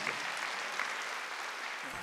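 A church congregation applauding during a Sunday worship service, a steady, fairly faint wash of many hands clapping that continues throughout, with no talk over it.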